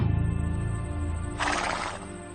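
A horse neighing: a close, fairly loud whinny with a breathy snort midway, against a steady background hum, no talk.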